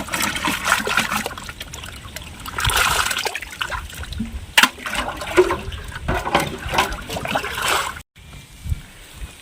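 Fish tipped back into a Kerala backwater from a trap, water splashing and splattering in bursts near the bank, with a few sharp splashes and a brief cut of quiet near the end.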